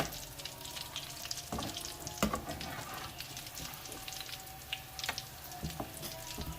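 Chicken burger patties fry in a pan over low heat, giving a steady close sizzle with scattered crackles and a few sharper pops and clinks throughout.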